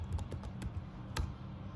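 Quiet, close keystrokes on a computer keyboard as a pip version command is entered, a quick irregular run of soft clicks with a slightly louder tap near the end.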